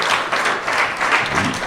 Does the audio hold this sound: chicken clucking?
no